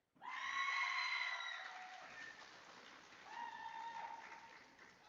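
An audience at an 8th grade recognition ceremony breaks into applause for students, with high whoops and cheers over the clapping. The sound swells, fades slightly, then rises again with more shouts.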